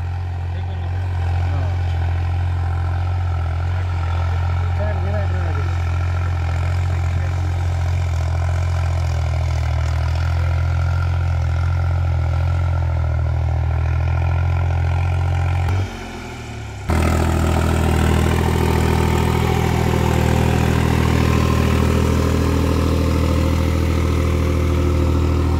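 A tractor engine runs hard and close during a field demonstration, a loud, steady, throbbing drone that dips briefly before surging back with a heavier, rougher roar.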